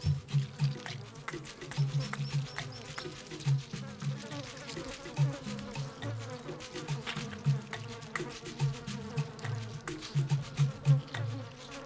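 Buzzing insects hover near a dung ball, a continuous droning hum with pulsing wingbeats rising and falling close to the ear, under faint wet squelching and no speech.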